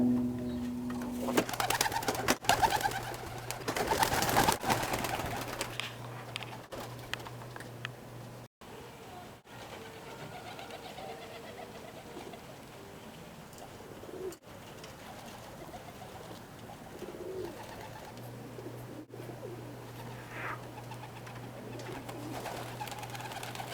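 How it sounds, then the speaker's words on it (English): Birmingham roller pigeons coo softly in a loft, with low rolling coos repeating at intervals over a faint rain-like background hiss and occasional thumps, with no one talking. "These are my Birmingham rollers."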